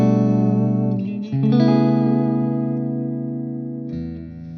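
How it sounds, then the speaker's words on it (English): Clean electric guitar tone with no boost pedal engaged: a few sustained, chiming chords ring out with a smooth, effected shimmer, the second chord struck just after a second and held, fading slightly. "Here I have the normal clean."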